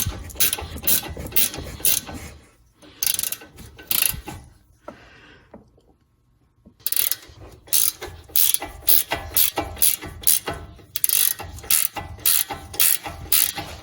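A ratchet wrench working a bolt loose on the CV joint of a Grand Caravan, with rapid, loud clicking bursts in a fast rhythm, a quiet pause in the middle, then more steady ratcheting.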